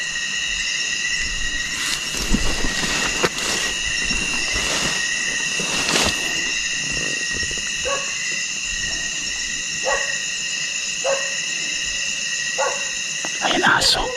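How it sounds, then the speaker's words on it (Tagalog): Several dogs bark in scattered bursts over a steady hum on a mountain, with voices talking and a train rumbling nearby. "Ayan, aso. Aso talaga."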